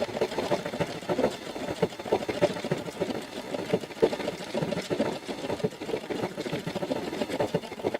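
A sewing machine runs decorative stitches on fabric in a fast, continuous rhythmic chatter, close and steady across the whole stretch.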